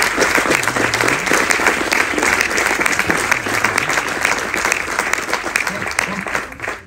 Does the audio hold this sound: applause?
yes